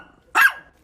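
Dog-bark phone ringtone going off indoors, one sharp close bark followed by the start of another, clear and isolated against quiet.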